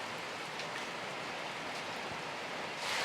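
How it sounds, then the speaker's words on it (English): Steady rain falls on a farm near a barn, a dense, even hiss with no talk, growing a little louder at the very end. "it has just been a steady rain"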